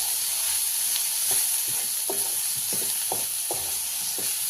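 Soybeans coated with onion and masala sizzle steadily in a pan while sautéing, a constant close hiss broken by regular soft scraping stirs.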